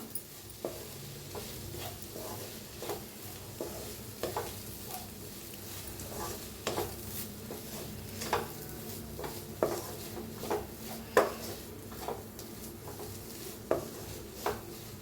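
Spoon stirring a dry spice mix of crushed peanuts and plenty of fresh coriander for stuffed green chillies, with repeated scraping taps against the bowl in an uneven rhythm, close and moderately loud with no talk.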